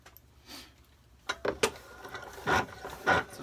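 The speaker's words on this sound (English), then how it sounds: "I found that it's a lot easier to cut the silverware with the bolt cutters" 14-inch bolt cutters snip through a metal olive fork, giving a few sharp metallic clicks and snaps, two close together near the middle and two heavier crunches toward the end, fairly quiet with no voices.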